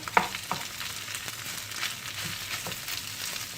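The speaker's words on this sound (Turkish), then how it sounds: "Güzelce kavuruyoruz ezdiğimiz patatesleri." Mashed potatoes with pepper paste being sautéed in a pan, a steady close sizzle with soft stirring scrapes and an occasional utensil tap, no voices.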